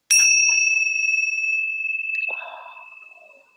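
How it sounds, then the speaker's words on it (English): A single bell is struck once, giving a bright clear ring that sustains and slowly decays, followed by a soft breathy sound, faint overall. "I love that bell."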